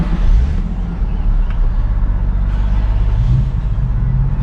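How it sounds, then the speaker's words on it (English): A Nissan 350Z sports car engine with a Nismo exhaust running steadily at close range, a low rumbling drone with no speech over it. "So I'll roll my window down and you guys can hear startup. It's super quiet."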